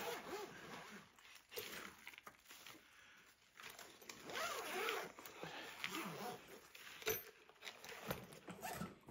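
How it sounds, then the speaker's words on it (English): A zipper on a TravelPro VersaPack roll-on bag gives repeated rasping, scraping pulls at close range, with fabric handling and rustle around them and no talk. "There's a zipper here,"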